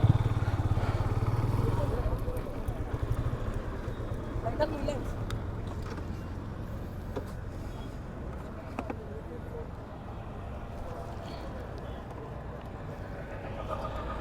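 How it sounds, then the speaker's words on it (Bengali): Motorcycle engines rumble past in a steady, busy stream, a loud continuous drone with faint voices in the background. "এখন দেখা যাচ্ছে অনেক মোটরসাইকেল"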